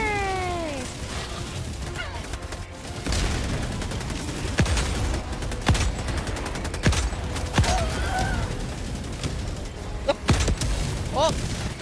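Rapid rifle gunfire in the co-op shooter Helldivers 2, bursts of loud shots and explosive booms crackling over continuous battle noise, with excited voices talking over the action.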